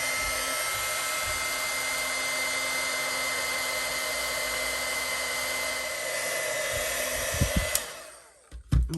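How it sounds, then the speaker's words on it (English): Heat tool used for heat embossing a stamped card, blowing a steady loud whooshing hum for about eight seconds before switching off with a few clicks and a fading whir. "Then we're just gonna heat emboss that."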